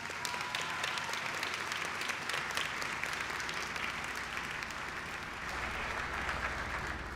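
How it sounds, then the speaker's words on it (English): A crowd applauds at a student academic excellence awards ceremony, dense continuous clapping from a sizeable audience that holds steady for about seven seconds before thinning slightly. "Let's give a round of applause."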